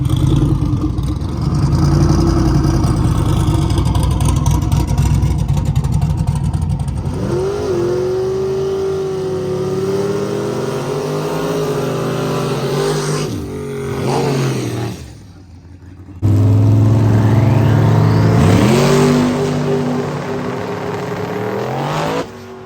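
Twin-turbo 4.8-liter Dodge Dart drag car making a loud full-throttle launch and pass, the engine revving hard through gear changes with a brief dip before roaring again, no talk.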